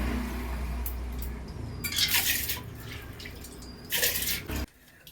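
Washed rice tipped into a pot of hot water on a home stove, giving two short bursts of splashing and pouring, with a low steady rumble underneath and a quieter tail at the end.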